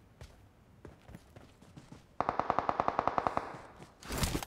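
Video game gunfire: scattered soft knocks and steps lead into a loud, rapid automatic burst of about a dozen evenly spaced shots, then a short harsh blast at the end.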